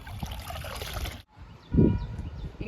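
Rice-flour liquid fertilizer poured onto indoor potted plants, a soft trickle and splash near the microphone with a brief pause before a fuller pour.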